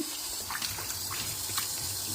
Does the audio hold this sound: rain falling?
no